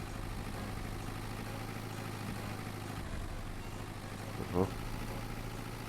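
A tractor engine in Farming Simulator 22 idles with a steady low hum, and a brief sharp rising tone cuts in near the end.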